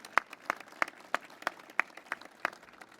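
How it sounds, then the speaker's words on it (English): Sparse clapping from a small audience at a ship christening and launch ceremony honoring a Navy color guard. A few distinct claps land at a loose, roughly even pace, fairly quiet overall. "Again, a big thanks and a round of applause to Naval Base Coronado Color Guard."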